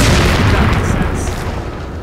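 A loud explosion in the survival horror video game Resident Evil 4 booms deep and heavy and rumbles off over two seconds, with faint higher crackles.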